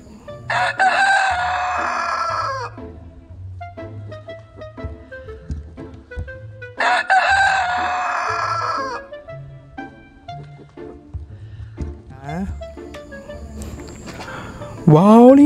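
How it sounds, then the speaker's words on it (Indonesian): A rooster crows twice, loud and close, with a long gap between the calls. Quieter clucks, shuffling and a voice fill the pauses. "ini adalah ayam jago teman-teman"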